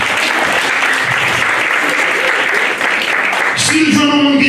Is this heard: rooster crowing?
no